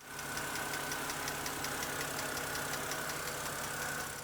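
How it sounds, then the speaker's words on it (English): An idling car engine ticks steadily from its valve lifters, a fast, even tapping riding over a constant mid-pitched hum, close and unbroken. "A steady ticking from the top of the engine, louder when it's cold or idling"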